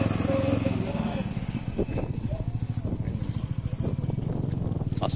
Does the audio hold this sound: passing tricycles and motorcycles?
yes